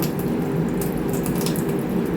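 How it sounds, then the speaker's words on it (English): A kitchen tap runs steadily close by, a dense, even hiss of flowing water into a sink for a couple of seconds, with no talking. "So what I'm going to do is open the tap, get a spoon."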